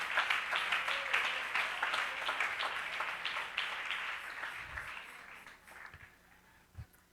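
A church congregation applauds in a dense wash of clapping that holds steady, then thins and fades out over the last seconds, leaving a couple of isolated thumps.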